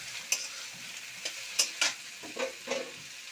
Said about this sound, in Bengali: এবার ঝিঙেগুলো একটু দিয়ে দিচ্ছি। দিয়ে একটু নাড়তে থাকছি।